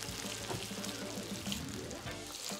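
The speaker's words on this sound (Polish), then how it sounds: "Dlatego trzeba bardzo powoli ją smażyć." Soft, steady sizzling of cabbage frying slowly in butter in a pan, a gentle continuous crackle with faint stirring noises, no voices.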